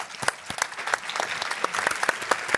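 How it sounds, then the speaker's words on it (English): Conference audience at a UNESCO forum on racism and discrimination clapping for a closing panel, a brief burst of sharp, uneven handclaps close by, with no talk. "a big round of applause to these champions"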